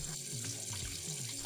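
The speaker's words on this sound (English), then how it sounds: "pouring this water down the sink also cleans the drain, eliminating any odors" Water being poured down a kitchen sink drain, a steady, close splashing flow that runs without pause for the whole moment.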